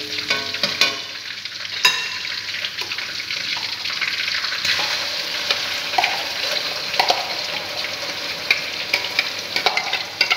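Spice paste for chicken bahar sizzling in a hot pan, a loud, dense crackling hiss with stirring scrapes and occasional sharper pops, close and continuous, with no talking.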